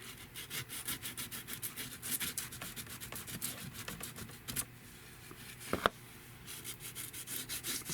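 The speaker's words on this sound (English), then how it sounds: "So I'm going to get my glue eraser." Rapid, quiet back-and-forth rubbing of a glue eraser over excess glue on a craft project cover, a dry scratchy texture in steady bursts with one sharp tap midway.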